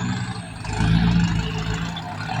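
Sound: vehicle engine whining

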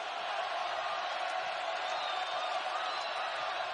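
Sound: basketball crowd rising and cheering, Iowa State arena

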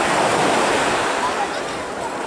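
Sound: waves on the shore at Shamora bay, Vladivostok

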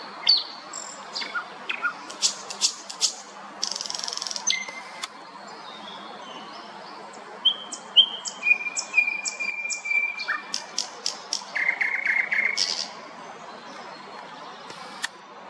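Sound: common nightingale singing

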